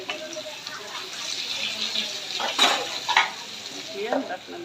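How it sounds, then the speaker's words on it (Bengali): Teasel gourd pieces coated in gram flour fry in a pan with a soft, steady sizzle, broken by a few louder clatters and stirring scrapes. "ঢাকনা খুলে দেখবো কাঁকরোলগুলো ভাজা হয়েছে কিনা"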